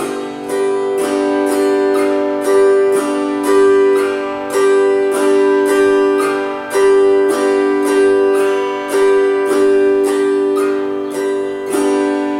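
Steady acoustic guitar strumming in 2/4, thumb bass notes on the downbeats and lighter finger upstrokes between, played alone and evenly throughout.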